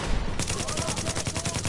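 Rapid gunfire in The Division video game, a dense, loud burst of repeated shots crackling continuously over booming low-end game noise.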